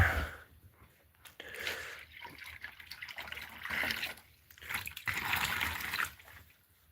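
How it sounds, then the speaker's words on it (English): Water runs into jugs and dog bowls in a snowbound cabin, splashing and trickling in uneven surges that swell and fade, with no talking. "Let me fill some water jugs, some water bowls for my doggies."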